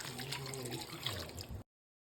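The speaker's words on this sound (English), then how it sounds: "Now add 3 cups of water." Three cups of water poured into a pot holding goat meat on the bone with onions and garlic paste, a close, steady gurgling splash that stops abruptly after about a second and a half.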